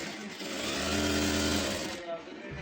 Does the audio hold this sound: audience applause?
no